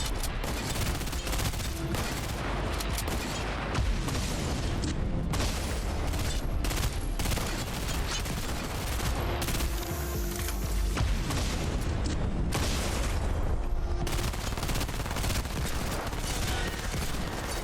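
Continuous heavy gunfire in Fortnite aimed at red targets on a creator-made island, loud rapid volleys and booming impacts that go on almost without pause, with no voices over them.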